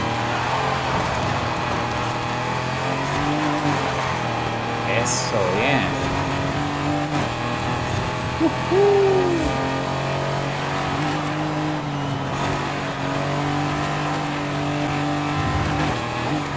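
Heavy, torquey car in Forza Horizon 5 racing through a chicane, engine droning and revving steadily up and down throughout, with short tire squeals and someone talking over it.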